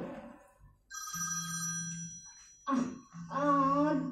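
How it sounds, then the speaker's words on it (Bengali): Telephone ringtone in a quiet indoor room, a steady electronic tone repeating in two bursts with short pauses between, moderately loud and close, with a faint voice briefly underneath. "দাঁড়ান, আমার একটা ফোন আসছে।"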